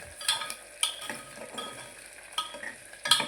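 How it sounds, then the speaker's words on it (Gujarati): Potatoes and onions fry and sizzle in a pan for a Gujarati vegetable dish, with soft scraping stirs and a few sharper utensil clicks against the pan, close and moderately quiet. "બટાકા નાખી દઈએ બટાકા ડુંગળી થોડીક વાર હવે પાકવા દઈએ અંદર"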